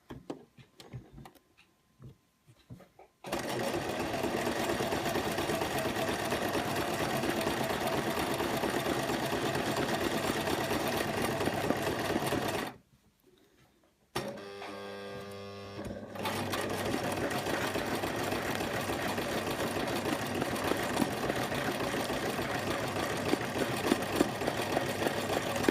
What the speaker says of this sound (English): just release the presser foot before you then continue sewing